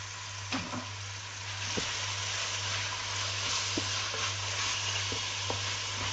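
Masala sizzles steadily in a pan while being roasted for malai kofta, a continuous broadband frying hiss with a few soft spoon scrapes and taps, close and fairly loud, with a low steady hum underneath.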